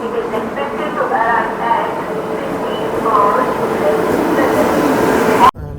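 Aboard the Malwa Express on the Punjab to Kashmir run, a steady rumbling ride noise fills the carriage while someone talks over it, ending in a sudden cut.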